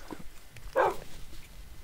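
A single dog bark from the Minecraft video game, short and clear in the middle of quiet game background sound, with no talking.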